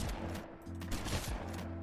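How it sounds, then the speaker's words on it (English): Shotgun fire in Fallout 4 from a modded weapon pack that needs a pump between shots: several gun blasts over a dense, steady in-game background with rumbling low tones. "Let's try the shotgun"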